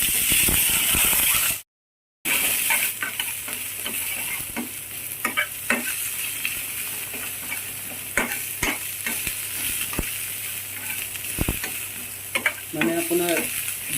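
Hakka noodles with onion stir-fried over an open flame in a wok: a loud, steady sizzle and hiss with repeated clanks of the spatula against the pan and a brief gap partway through.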